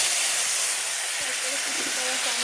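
Chopped tomatoes hit hot oil tempered with black cumin, giving a loud, steady broadband sizzle throughout, with faint traces of a voice in the background.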